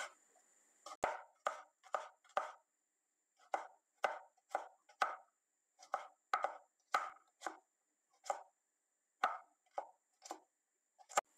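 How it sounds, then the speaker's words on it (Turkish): Knife finely chopping vegetables for a green lentil salad on a board, clear rhythmic strokes in short bursts of three to five with brief pauses, close and alone. "Bunları da ince bir şekilde aynı boyutlara yakın doğruyoruz."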